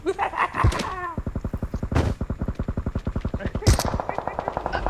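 Rapid automatic gunfire in the battle royale game PUBG, a long steady burst of closely spaced shots with a few louder single blasts, loud and close, heard alongside excited shouting from a player.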